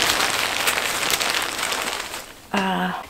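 A plastic mattress cover crinkles and rustles loudly as it is handled, a dense crackling hiss throughout, ending with a brief voice.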